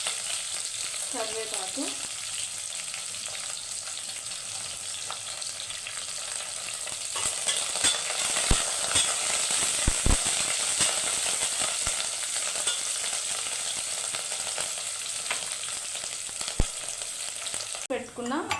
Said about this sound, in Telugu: కట్ చేసి పెట్టుకున్న పచ్చిమిర్చి ఒకసారి కలిపేస్తున్నాను